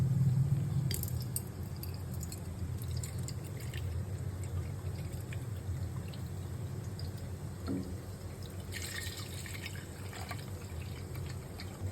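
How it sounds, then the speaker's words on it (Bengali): Milk, one litre, poured into a cooking pot in a home kitchen, a soft continuous liquid stream with a faint splashing texture that holds steady throughout at moderate loudness. "এখন আমরা একটা পাতিলের মধ্যে 1 লিটার দুধটা ঢেলে নেব।"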